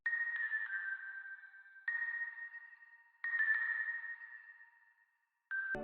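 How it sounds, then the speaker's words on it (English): A soft Omnisphere bell plays a few sustained tones one after another, each ringing out and decaying under an EQ'd, spacious reverb tail, alone and fairly quiet. "Here's how the bell sounds on its own."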